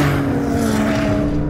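A Porsche 911 Turbo S and a McLaren 720S launch hard side by side in a drag race. A loud, sustained engine roar holds a steady tone close by, with no talking over it.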